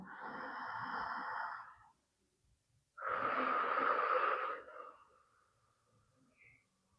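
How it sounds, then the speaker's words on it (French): During a slow yin yoga session, a person takes a deep breath in and then exhales through the mouth, giving two long, soft, airy breaths close up with a quiet pause between them. "Viens prendre une profonde inspiration par la bouche et souffle par la bouche."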